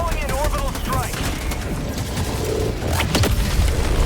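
Robot enemies in Helldivers 2 fire on the player in a dense, loud barrage of gunfire and impacts, rapid overlapping shots amid chaotic battle noise, with a player talking over it.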